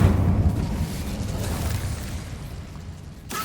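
An Incendio fire spell from Hogwarts Legacy bursts in a roaring blast that fades into a sustained crackling rumble, with a brief sharp flare at the end.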